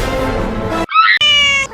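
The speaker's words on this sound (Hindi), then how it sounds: "हाय राम, बिल्ली रो रही है" A cat meows loudly and close by, a drawn-out cry followed by a couple of sharp, tonal meows, with steady background noise underneath the first part.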